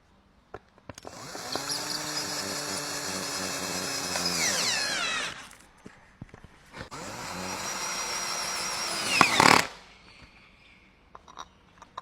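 Long bolts are driven in with a power drill while an office chair is assembled, in two sustained whirring bursts with rising pitch and a brief pause between them, close and fairly loud, with no talking.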